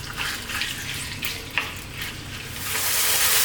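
Lamb pieces for Ethiopian siga tibs frying over above-medium heat, a continuous crackling sizzle with scattered pops and stirring clicks, growing louder and denser toward the end.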